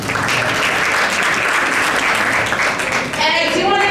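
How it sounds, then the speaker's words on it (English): Loud, dense applause fills a gala awards dinner hall, steady throughout with crowd noise beneath and a voice beginning to speak near the end. "A round of applause for all of you for joining us as well"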